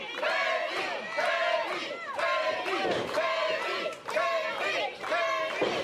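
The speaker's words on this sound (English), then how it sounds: "Crowd getting behind him." A wrestling-event crowd chants in rhythmic unison, voices rising and falling in repeated waves, loud and close throughout.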